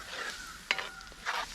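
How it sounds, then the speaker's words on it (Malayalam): Chicken curry gravy bubbles and sizzles softly in a pan, a faint steady hiss broken by a few small pops and spits. "അപ്പോൾ നമ്മുടെ ഇത് ഗ്രേവി തിളച്ച് വരുന്നുണ്ട്."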